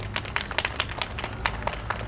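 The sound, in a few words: audience applause at a memorial event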